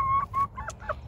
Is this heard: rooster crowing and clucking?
yes